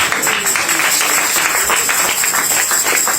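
A church congregation claps and applauds together, a steady, loud, dense wash of hands filling the hall for a few seconds.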